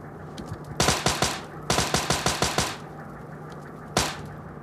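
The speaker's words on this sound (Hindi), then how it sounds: "बाजू से वापस पीछे से गन साउंड आ जाता है मेरे को" Gunfire in PUBG Mobile Lite: a quick burst of automatic shots, then a second longer burst and a lone final shot, loud and sharp with no talk.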